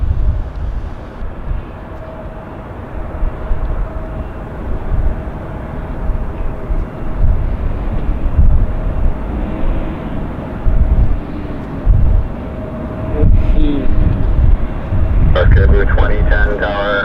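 Airliner taking off from runway 26 left at Vancouver Airport, a broad roaring jet rumble building gradually and swelling louder toward the end, heard from a distance with tower radio chatter over it.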